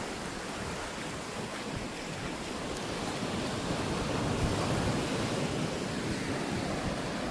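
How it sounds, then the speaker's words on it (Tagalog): Ocean waves washing onto an Australian beach, a steady broadband surf roar with gentle swells in intensity, close by and continuous, with light wind on the microphone and no voices. "Sarap pakiramdam sa alon."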